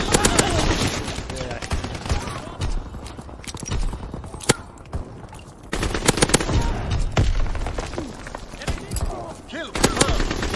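Rapid automatic gunfire in a Call of Duty Kill Confirmed multiplayer match, loud bursts and single shots in quick succession with a brief lull midway, mixed with game effects and occasional speech.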